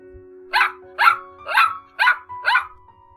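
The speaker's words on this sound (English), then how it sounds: "a more distinct, dog-like bark radiated throughout the floor" A dog barks five times in a steady rhythm, loud and close, each bark sharp and separate, with no talk over it.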